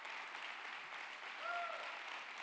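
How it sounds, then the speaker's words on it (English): A church congregation claps in celebration during a Sunday morning service, a faint, distant wash of applause with a brief tonal squeak partway through. "Give them one more hand clap of celebration today."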